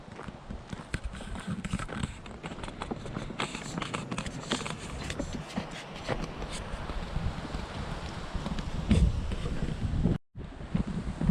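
Strong wind buffets the microphone outdoors near a mountain cove, a continuous rough rumble with gusty bursts throughout, briefly dropping out near the end.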